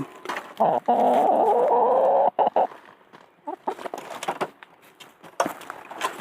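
A laying hen clucks and squawks up close, with one long loud cry followed by scattered softer clucks and rustling.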